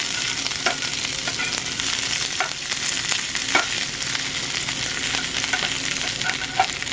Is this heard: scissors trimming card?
no